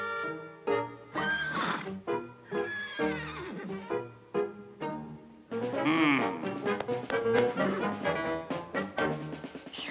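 Horses in a Smurfs Halloween cartoon give a series of loud, close whinnies and neighs, one after another with short gaps, then denser overlapping calls in the second half.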